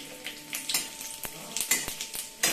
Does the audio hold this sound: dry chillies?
yes